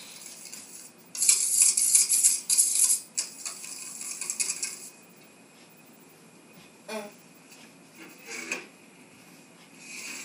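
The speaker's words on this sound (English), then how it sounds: "the remaining half of the tub of the mascarpone cheese. Whisking gently again." A whisk clinking and scraping in a bowl as mascarpone cheese is gently folded into chocolate swirl cheesecake batter, with a few seconds of steady close metallic whisking followed by softer scattered taps.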